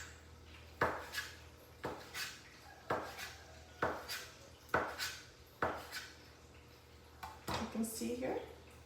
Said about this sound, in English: Now we're going to slice the mushroom caps into strips.